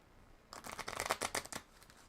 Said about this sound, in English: I'm going to shuffle my deck so much it's just going to be a block of land